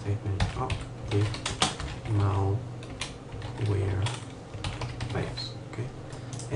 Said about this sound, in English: We're going to type in update